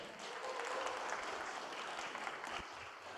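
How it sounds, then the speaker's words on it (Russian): Conference audience applauding to welcome a speaker to the stage, a soft, even, continuous patter of many hands clapping at a moderate distance for several seconds. "Встречаем аплодисментами."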